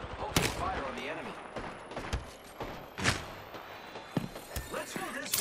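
Gunfire in the video game Apex Legends: several sharp, loud shots spaced irregularly across a few seconds, with talk and game sounds underneath.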